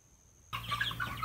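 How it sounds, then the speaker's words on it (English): Farm chickens cluck and squawk close by, a burst of busy high-pitched calls starting suddenly after a near-silent half second and continuing over a low background hum. "Here are the chickens."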